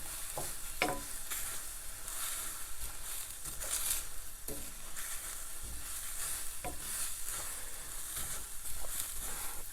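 Sesame seeds sizzle and crackle as they toast in a pan, a steady close hiss with occasional stirring clicks and scrapes, no voices.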